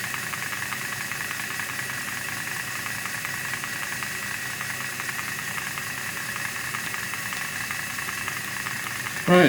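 Audi A4 engine running and revving while smoking, a steady close mechanical drone with hiss, fairly even in level with a brief louder burst at the very end.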